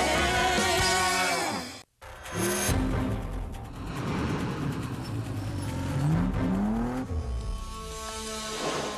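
A car engine revs hard and steadily in a motor oil advert, loud and sustained, with rising and falling pitch sweeps, a brief cut near the start, and possible tire squeal mixed in.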